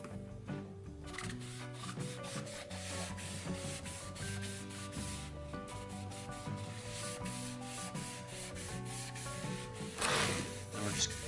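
Leather dye being rubbed over a leather belt, giving soft, quiet, repeated rubbing strokes against a steady tonal background.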